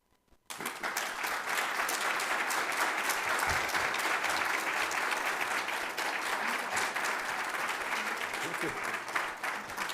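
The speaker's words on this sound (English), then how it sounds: "Thank you for clapping." Audience at a genome science workshop applauds steadily for about ten seconds, a dense, sustained burst of clapping from a room full of people that starts abruptly and holds at an even level with no voices over it.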